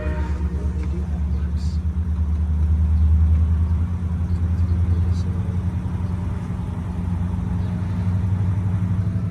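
A MARC commuter train engine idles at Brunswick with a deep, steady diesel rumble, swelling slightly as it begins to pull away, heard from nearby under light background noise.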